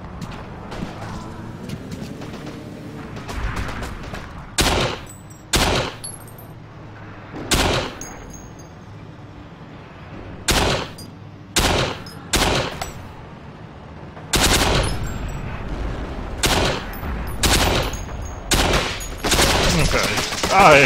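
Heavy gunfire in the World War II shooter Forgotten Hope 2 at Sidi Rezegh: repeated loud bursts and single cracks over constant battlefield rumble, clustering into rapid volleys toward the end, with faint talk in the background.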